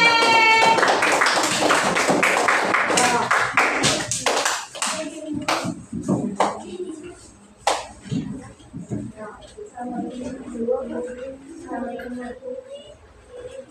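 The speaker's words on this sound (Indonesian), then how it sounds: "Beri tepuk tangan untuk kelompok C." A classroom group briefly claps for a student group at the start, with loud voices and chatter over it, then continuing speech and classroom noise.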